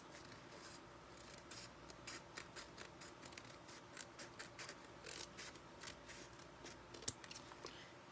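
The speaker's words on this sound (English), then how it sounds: "now I'm going to just snip the top of this" Paper is snipped with scissors in a quiet, close series of short crisp cuts with soft rustling, and one sharper snap near the end.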